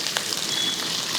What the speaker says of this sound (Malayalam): ഇഞ്ചി വെളുത്തുള്ളിയൊക്കെ ഒന്ന് മൂത്ത് വരുന്നുണ്ട്